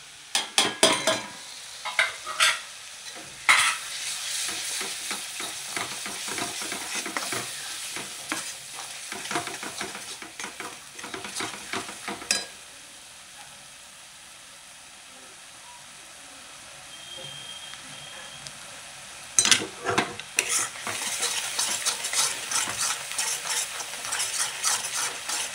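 Spices and onion fry in a pan while being stirred, giving loud scraping and rattling bursts over a crackling sizzle, with a quieter stretch of plain sizzling in the middle before stirring resumes.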